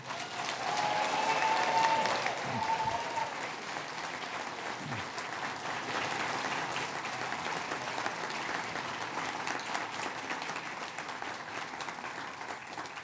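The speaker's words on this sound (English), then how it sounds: "Let's give them one more round of applause." A graduation ceremony audience applauds in a dense, continuous wash of clapping that stays loud and even throughout, with faint crowd murmur and a brief cheer early on.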